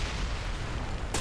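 Semi-automatic gunfire in the shooter game Ghost Recon Online comes as dense, loud booming shots blurring into a continuous roar, with a sharper burst at the very end.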